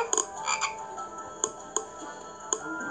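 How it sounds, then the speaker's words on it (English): Frogs croak in short raspy bursts, a cluster at first and then scattered single calls, close and clear over a quiet background. "I don't like frogs."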